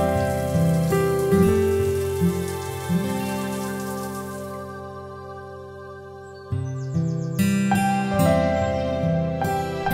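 A soft, steady hiss of rain under tuneful music, fading out midway before the music carries on alone.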